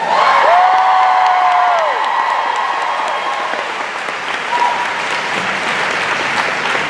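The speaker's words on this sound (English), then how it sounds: "Can we just get a nice round of applause for the band?" Loud audience applause for the band at a live fan convention stage event, steady dense clapping with some cheering and a whoop, a sustained tone ringing over the early part as the crowd keeps clapping throughout.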